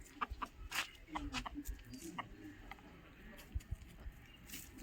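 Caged desi chickens cluck softly in short, scattered bursts, quiet and somewhat distant, among light clattering background noise.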